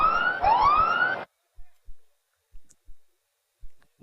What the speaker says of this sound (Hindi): ये सायरन बजा कि दिल की धड़कनें तेज।